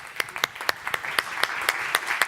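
Audience applause for a panelist walking onto the stage at a European elections debate: a sparse, uneven patter of individual claps, moderately loud and close, with no other sound over it.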